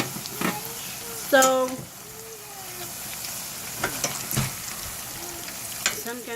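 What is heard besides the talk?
tortillas frying in oil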